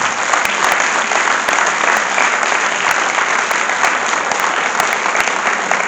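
An audience at a book event applauds in one continuous, dense wave of clapping, with a few sharper individual claps standing out near the microphone.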